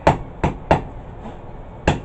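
Four light, sharp hammer blows ring out on a blade being forged for a herb chopper, struck at an uneven pace with a longer pause before the last, close and clear with no talking.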